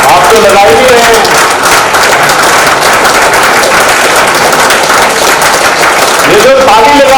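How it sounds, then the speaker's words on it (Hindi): Loud, sustained applause from an audience at an Aggarwal community gathering, dense clapping filling the whole stretch with crowd noise, and a voice briefly heard at the start and end. "ये जो ताली लगा रहे हैं ना"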